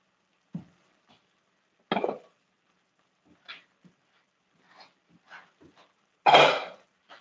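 A woman coughs several times while cooking shrimp fried rice in a kitchen, short separate hacks spaced out across a quiet room, the last one loudest.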